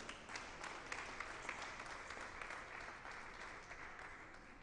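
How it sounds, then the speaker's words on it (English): Quiet, steady applause from a crowd honouring the winners at the finals of the Ontario singles closed championships, sounding soft and somewhat distant and lasting several seconds. "Let's give them a round of applause."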